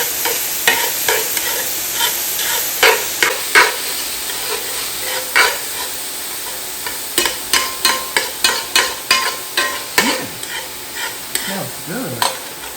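Chopped celery, bell pepper and red pepper fry in a pan for Louisiana dirty rice dressing, sizzling steadily while a spoon scrapes and stirs in bursts of clacks, some quick and rhythmic, close up with no talking.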